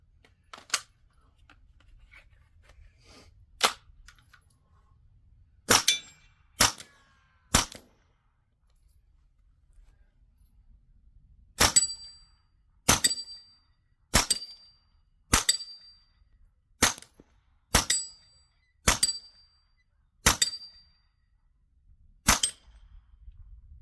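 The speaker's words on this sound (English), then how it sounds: "I'll shoot some out in the distance so you guys can hear it well." Subsonic 9mm handloaded rounds fire from a CZ Scorpion pistol as sharp, moderately loud cracks, a few spaced shots at first, then a steady string of about a dozen evenly paced shots outdoors.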